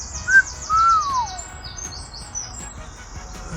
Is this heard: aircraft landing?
no